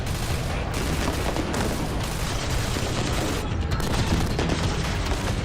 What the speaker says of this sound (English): The ground force is now trapped, pinned down by gunfire.